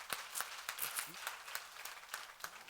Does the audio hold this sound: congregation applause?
yes